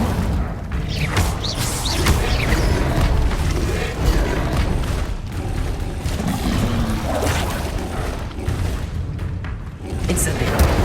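Incendio fire spell cast repeatedly during combat in Hogwarts Legacy: a dense, loud wash of whooshing bursts, booms and thuds that runs without pause, with overlapping game effects throughout.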